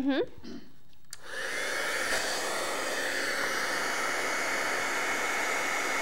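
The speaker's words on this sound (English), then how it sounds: "Now the trick is when I bring the heat embossing in with the gun." A heat embossing gun melting embossing powder switches on after a brief clatter and blows as a steady, loud, airy whir that holds constant to the end.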